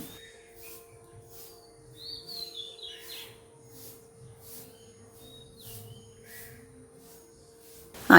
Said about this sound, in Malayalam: ഇപ്പം നിറയെ പക്ഷികളുടെ കളകളാരവം കേട്ട്